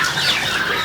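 Three-month-old turkey poults feeding raise a dense, continuous chorus of high clucking and chirping calls, loud and close throughout.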